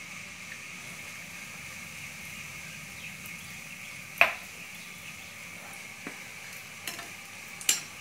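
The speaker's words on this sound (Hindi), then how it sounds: "अभी बेटर में डिप करूंगी और फ्राई कर लूंगी" Paneer vada dipped in batter fries in hot oil with a soft, steady sizzle close by, punctuated by a few sharp clinks and taps of a utensil against the pan.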